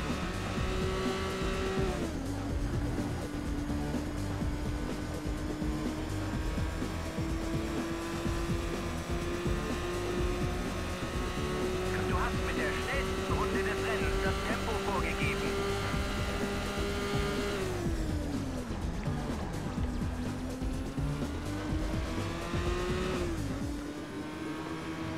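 An Audi TT race car in the Total Immersion Racing video game, racing at Talheim, with a sustained engine drone whose pitch climbs and drops through gear changes and a tire squeal, under occasional talking.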